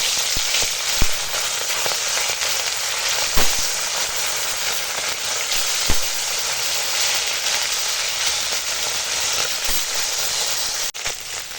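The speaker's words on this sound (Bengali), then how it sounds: "এখন তেল গরম হয়ে গেছে মাছগুলো ভেজে নেবো" Small fish rubbed with salt and turmeric fry in hot oil, a loud, dense, unbroken sizzle close by with scattered sharp pops and crackles throughout, and no voices.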